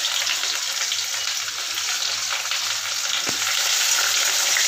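Chopped onion sizzles steadily in hot oil in a home kitchen, a dense continuous frying hiss with one brief stir or clink midway, close and fairly loud, no talking.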